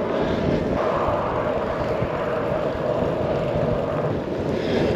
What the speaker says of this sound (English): We've got a block headwind.